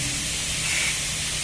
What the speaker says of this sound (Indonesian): makanya kita harus semprot seperti ini